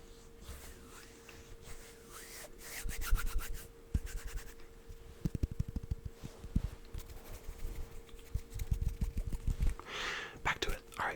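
Hands rub together close to the microphone in soft, uneven bursts of dry swishing and scratchy friction, with a faint whisper under the rubbing.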